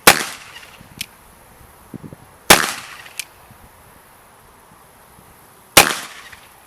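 An 1851 Colt Navy .36 caliber revolver fires three loud, sharp shots about three seconds apart. Each crack is followed by a short echo, and faint impacts sound in the gaps between shots.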